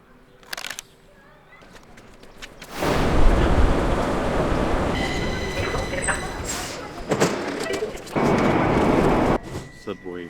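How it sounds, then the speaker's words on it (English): A subway train in Stockholm rumbles loudly through, a broad roar swelling after a few seconds and holding with squeals and clatter, with voices briefly audible at the start. "Subway, subway, subway."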